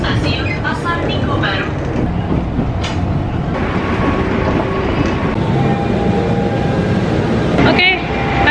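A train runs toward Taman Mini in Jakarta, Indonesia, with a steady rumble and rolling rail noise filling the carriage throughout, while people talk nearby and a couple of brief squeals rise above it.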